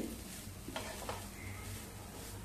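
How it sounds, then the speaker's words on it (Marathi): Grated fresh coconut being sautéed in a little ghee in a pan on low heat, giving a faint, soft sizzle with a couple of quiet stirring scrapes. "आता ओलं खोबरं घालूया आपण आधी। आपल्याला छान असं परतवून घ्यायचंय"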